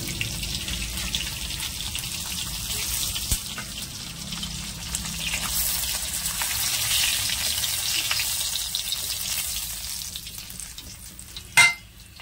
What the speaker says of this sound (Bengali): তো মাছগুলো ভাজা হয়ে গেছে